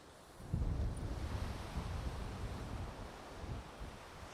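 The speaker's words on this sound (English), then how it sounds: "The wind is really high." Strong wind buffeting at Half Moon Bay beach in Antigua, a loud low rumbling roar that rises after a moment and stays steady, with surf faintly mixed in.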